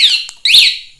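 A 9Nine A1 motorcycle alarm fitted to a 2020 Honda Beat sounds loud and close, a shrill electronic siren in two sweeping bursts split by a short gap.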